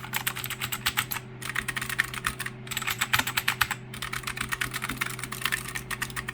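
An older mechanical keyboard is typed on in rapid bursts, its keys loud and hollow-sounding, with close clattering runs broken by brief pauses.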